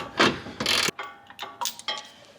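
A ratchet works a bolt loose on the differential of a BMW E36 being prepped for drifting, giving a few close, loud clicking strokes in quick succession with no talk.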